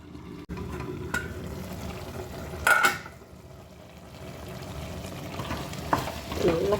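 Biryani masala and vegetables fry and get stirred in a pan, a steady close sizzle broken by occasional scrapes and knocks of the spoon against the metal.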